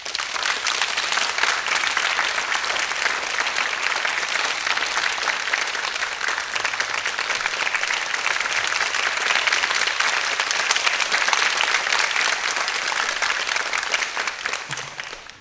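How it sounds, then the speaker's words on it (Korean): A concert audience gives sustained, loud applause to welcome a Seoul youth orchestra and its conductor during a summer music school performance, the clapping steady throughout before fading at the end. "큰 박수로 환영해 주시기 바랍니다."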